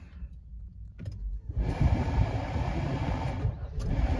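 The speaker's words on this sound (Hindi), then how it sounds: "ये हो गई गाड़ी स्टार्ट।" A Maruti Suzuki Jimny started with its push-button start: a couple of faint clicks, then the engine cranks and catches into a steady, fairly loud idle.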